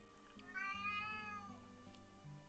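A person imitates a cat, giving a single drawn-out, rising-and-falling meow that is fairly quiet and alone, with a low hum beneath.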